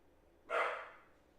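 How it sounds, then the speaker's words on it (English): A single dog bark sounds faint and somewhat distant, one short burst in an otherwise quiet room. "Sorry about the dog barking"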